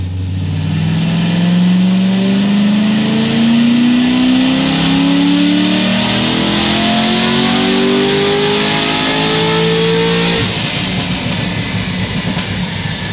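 A sports car engine revs hard on a dyno through a long, loud full-throttle pull, its pitch climbing steadily through the gears before easing off, with no voices over it.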